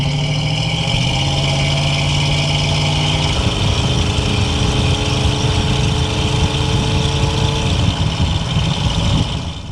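A factory black 1970 Chevrolet K10 CST 4x4 pickup with a 350 V8 and automatic transmission accelerates hard on the road, its engine droning loud and steady from inside the cab, the pitch shifting as it climbs through the gears.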